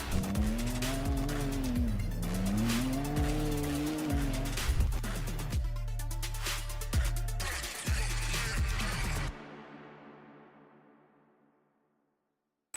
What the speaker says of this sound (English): Look at that Ditto tire just rip.